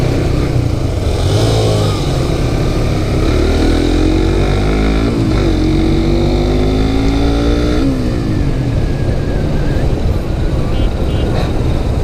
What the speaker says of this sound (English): I probably should not ride this fast before my break-in period